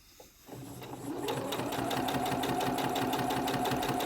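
A sewing machine running a straight stitch through vintage fabric, starting with a soft click and then settling into a steady, fast, even mechanical rhythm, close and alone.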